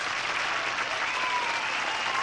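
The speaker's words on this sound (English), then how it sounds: "the cheers of this big Santa Anita crowd" A big racetrack crowd at Santa Anita cheers and applauds in a dense, steady roar, loud and continuous with no pauses, saluting the dramatic close of a jockey's career.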